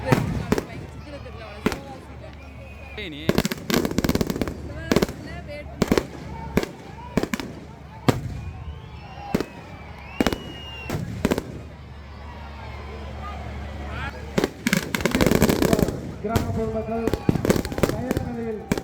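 Rapid strings of firecrackers crackle and pop loudly in bursts at a Muthalamman temple festival in Theni, India, with sharp bangs throughout and people talking between the volleys.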